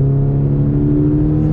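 A 2017 Toyota 86 with a TRD exhaust drones loudly under a steady rev, a deep, sustained, harmonically rich roar heard close by.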